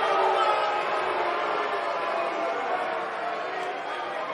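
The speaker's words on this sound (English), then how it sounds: "I think this Nashville crowd is in awe over witnessing such an incredible performance" Arena crowd in Nashville at a WWE 2K19 wrestling match, a dense, steady roar of cheering and chatter that fades slightly toward the end.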